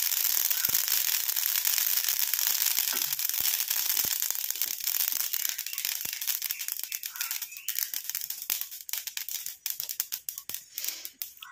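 Small mustard seeds fry and pop in hot oil as a hair dye is prepared, making a dense, close sizzling crackle that thins into scattered sharp pops toward the end.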